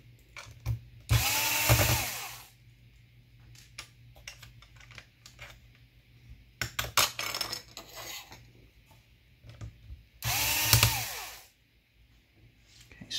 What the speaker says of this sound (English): I should have to take out all of the screws on the bottom.